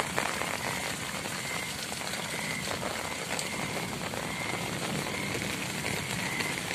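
Rain falls steadily in Swabi, an even, constant patter on surfaces that holds at a moderate level throughout with no voices.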